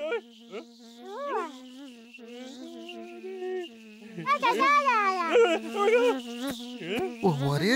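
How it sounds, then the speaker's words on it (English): A cartoon bee buzzes in a children's animated show, a wavering, high, nasal drone that rises and falls, heard alone at first and then under bright, lively voices. "It's a bee."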